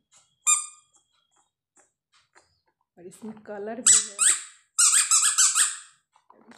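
A squeaky ball dog toy squeaks once sharply, then a run of squeaks and rubbery squeals as it is squeezed repeatedly, with a voice speaking briefly alongside.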